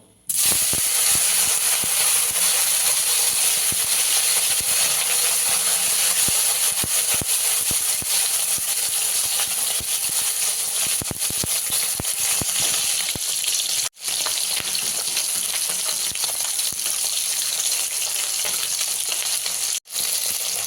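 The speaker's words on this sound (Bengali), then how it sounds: "কড়াইতে সর্ষের তেল দিয়েছি, তেলটা গরম হয়ে গেছে। আর মাছগুলো ভেজে নেব।" Loud, steady sizzling of small fish frying in hot mustard oil in a wok, a continuous crackling hiss with occasional pops, running alone for about twenty seconds.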